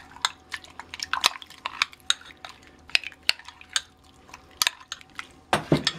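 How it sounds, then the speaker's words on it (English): Mushrooms being stirred in a pan while making pizza, a utensil clinking and scraping against the metal in quick irregular taps with light wet sizzle underneath, close and fairly quiet, no talk. "I'm going to stir them up a bit"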